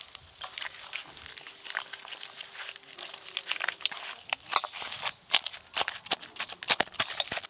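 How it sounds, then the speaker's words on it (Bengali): Boiled potatoes are mashed by hand with tamarind water, a close, irregular run of soft squelches, crunches and crinkling that grows busier toward the end, with no talk. "সেই তেঁতুল জল অল্প আলুতে দিয়ে ভালো করে মাখিয়ে নেব। এবার মাখিয়ে নেব আলুগুলো।"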